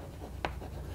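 A single short stroke of writing on a board during a calculus lecture, one quick scratch standing alone against a faint background hum.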